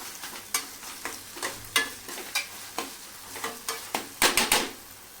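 Onion and tomato with a pinch of salt are stirred in a pan, a spoon scraping in about a dozen regular strokes over a faint sizzle, close and fairly quiet, with a quicker cluster of scrapes at the end.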